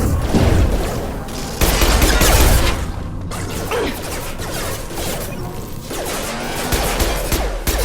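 Gunfire from the video game Mass Effect 2, a dense, loud barrage of rapid shots, crashes and impacts that runs almost continuously with brief swells, with no speech over it.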